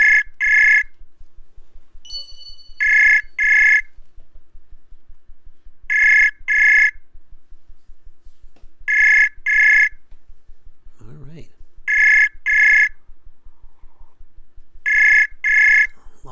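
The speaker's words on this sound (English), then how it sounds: "Pick up that phone." A telephone rings in repeated double bursts, about every three seconds, loud and near, with a brief interruption partway through and a low hum underneath.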